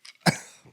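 One harsh cough close to the mic, followed by a brief trailing throat clear, with nothing else around it.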